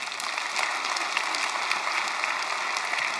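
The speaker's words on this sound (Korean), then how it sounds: "우리가 격려하면서 박수 한번 해줬으면 좋겠습니다." A church congregation applauds, a steady, dense wash of clapping from a large audience with no voices over it.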